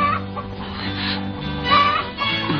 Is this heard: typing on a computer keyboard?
no